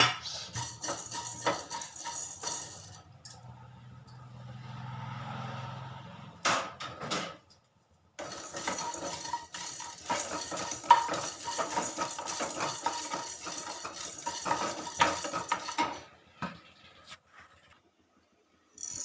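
A spoon scrapes and clinks against a pan while black pepper and cumin fry for a rasam, in intermittent bursts of stirring with a short pause midway, close and moderately loud, no talking.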